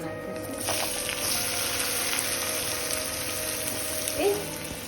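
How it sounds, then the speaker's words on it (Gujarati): Vegetables hiss and sizzle steadily as hot tempering (vaghar) is poured over them in a home kitchen, a broad continuous frying crackle close by with a brief higher squeak near the end. "વઘારી દઈશું"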